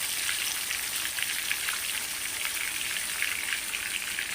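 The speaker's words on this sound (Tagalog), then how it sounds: "Ayan, piniprito ko na siya." Tilapia fillets fry in a pan of hot oil, giving a steady, dense crackling sizzle that holds close and even throughout, with no talking.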